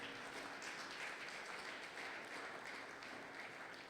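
A church congregation at a Sunday worship service applauds in a steady, continuous wash of clapping. The applause sounds somewhat distant and soft throughout.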